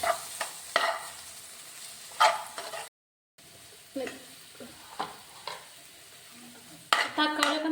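Chopped tomatoes are stirred and sautéed in a hot pan, with steady sizzling broken by repeated scraping strokes of a spoon, close and moderately loud, with a brief gap of silence partway through.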